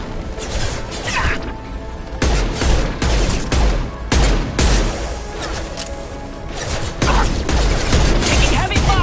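Heavy, continuous gunfire and clattering impacts during combat in the sci-fi shooter Mass Effect 2, loud and chaotic throughout, with voices speaking underneath.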